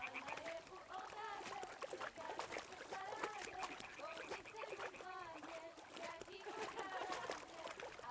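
Lapping water waves and light splashes in the medieval video game Kingdom Come: Deliverance II, a continuous watery wash with scattered bright trickles and a few bird-like calls throughout.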